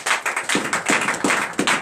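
A church congregation at a morning prayer service claps in praise, a short run of sharp, fairly rhythmic handclaps close by, about four strong beats in under two seconds.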